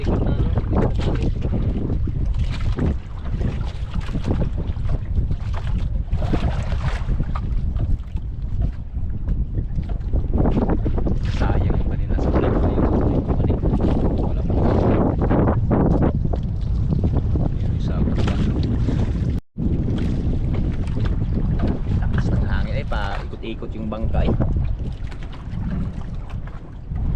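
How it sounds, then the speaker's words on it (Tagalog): A small boat swinging around in strong wind out on open water, with loud constant wind roar buffeting the microphone and water rushing against the hull, close and unbroken. "Ikot yung bangka sa hangin. Grabe lakas."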